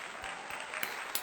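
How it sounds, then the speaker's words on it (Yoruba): Young children at a Yoruba body-parts lesson clap for themselves, a quiet patter of small hands with a few sharper individual claps standing out, soft and brief. "Ẹ pàtẹ́wọ́ fúnra yín ẹ̀yin ọmọ"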